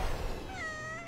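A giant cartoon cat gives a single drawn-out meow that bends upward and holds, loud and close against a busy soundtrack background, with no voices.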